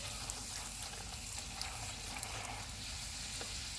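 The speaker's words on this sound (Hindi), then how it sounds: "अब हम इनको फ्राई कर लेते हैं। ऑयल मैंने गर्म होने के लिए रखा हुआ था।" Golgappa (pani puri) dough puffs frying in hot oil over low heat, a steady close sizzle with small crackling pops throughout and no talking.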